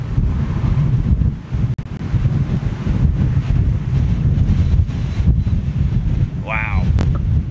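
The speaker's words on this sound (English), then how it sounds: "there's an extremely strong headwind" Strong headwind at Toulouse airport buffeting the microphone, a loud, continuous low rumble with gusty surges and a brief dropout, and a short faint sound near the end.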